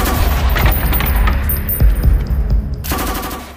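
Loud, sustained automatic machine gun fire, with dense rapid bursts of shots rattling almost continuously and heavy booming impacts in the middle before a brief lull and a renewed burst.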